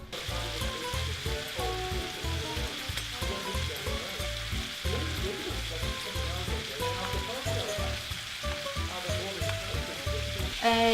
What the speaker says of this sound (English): some of the bacon Roger got me today is a bit thick, so it didn't crisp up as nice as I want